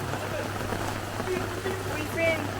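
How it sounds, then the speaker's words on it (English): Rain falls steadily in Chefchaouen, Morocco, a dense continuous hiss of drops on surfaces with a low hum beneath and faint voices in the background. "rain's getting worse"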